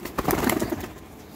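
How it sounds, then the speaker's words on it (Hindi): A few soft, low coos from a pigeon in a small pet-pigeon breeding setup, a short burst of close calls that quickly fades to quiet. "ये देखें खुश्क पंजों की कबूतरी है।"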